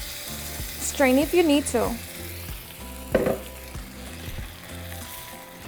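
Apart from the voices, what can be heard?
red chilaquiles sauce poured into hot pan, sizzling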